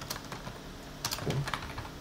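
Short bursts of key taps on a computer keyboard while composing in a Viber rich media editor, a few scattered clicks followed by a quick cluster, close and quiet with no talking.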